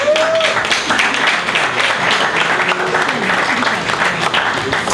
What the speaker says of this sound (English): a round of applause for Efe